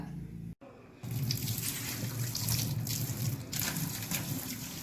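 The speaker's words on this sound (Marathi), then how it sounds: "अशा प्रकारे हे नितळून घ्यायचं आहे आपल्याला पाणी सगळं." Water draining away from boiled potato slices for homemade crispy wafers, a steady pouring trickle after a brief pause, close and fairly quiet, with no one talking.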